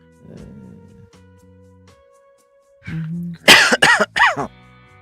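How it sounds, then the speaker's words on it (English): A series of sharp coughs bursts out near the mic during a casual live hangout call, several quick loud hacks in a cluster following a stretch of quiet background tones and murmur. "Keep coughing."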